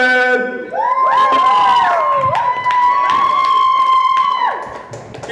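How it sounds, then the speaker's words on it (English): A comedy club audience claps and cheers loudly and close, with whoops and shouts rising above continuous applause while a tonal sound glides through the crowd noise. "So please give a round of applause for Nick Donabed."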